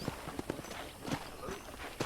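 Horse hooves clip-clop on the ground in the Red Dead Redemption video game, a few uneven steps at close range, with faint voices underneath.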